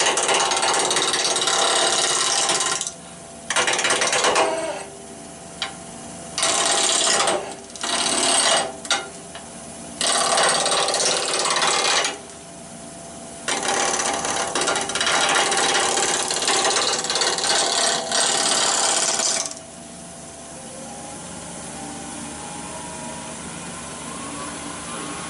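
A woodturning lathe roughs a knotty yew spindle blank round, the gouge chattering loudly in bursts of harsh, ratcheting cutting noise broken by brief pauses, then settling to a quieter spinning hum toward the end.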